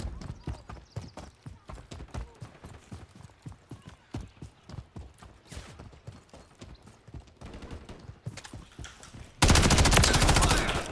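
Gunfire in the Call of Duty Modern Warfare 3 beta multiplayer, with rapid, fairly loud bursts of shots in a dense rattling rhythm, ending in a sudden loud burst of noise.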